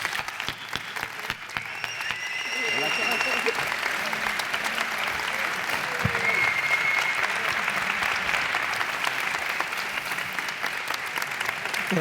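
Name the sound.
audience applause at Galanura festival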